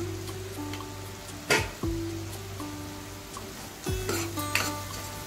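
Homemade spice masala sizzling in a pan for a ridge gourd and chana dal dish, with a steady fry hiss and sharp metal spoon scrapes and clanks as it is stirred, close and alone.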